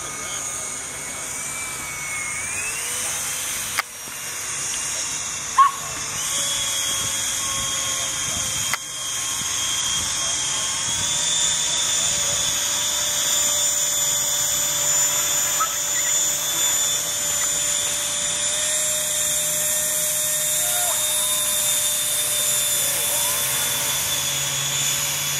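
An HDV aircraft engine running steadily through taxi tests at Hansen Dam Lake, a continuous loud drone with a few sharp knocks early on and people speaking faintly underneath.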